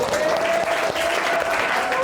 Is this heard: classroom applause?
yes